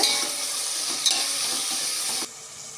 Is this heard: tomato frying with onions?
yes